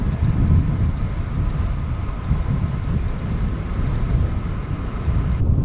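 Steady strong wind rushes past a cyclist riding the slopes of the Lincolnshire Wolds, a constant low roar of buffeting with no speech.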